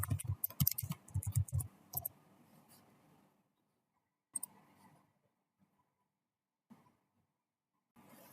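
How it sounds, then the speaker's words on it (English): Keys pressed on a computer keyboard while entering a password during a Kali Linux setup in VMware Workstation Pro, a quick burst of clustered clicks at the start, then a few isolated taps spaced out in near silence. "You have to type your password over here."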